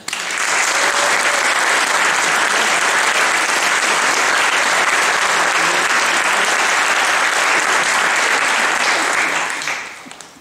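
A concert audience gives loud, dense applause to former musicians at an orchestra's 110th anniversary. It holds steady for about ten seconds, then fades at the end.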